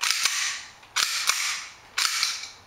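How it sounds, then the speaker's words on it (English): A KSC Glock 18c airsoft pistol with a heavier custom slide fires and cycles, three sharp close snaps about a second apart, each with a quick mechanical clack and a brief hissing tail. "Cycling speed that is actually quite good, except it's a little bit slower because it's a heavier slide."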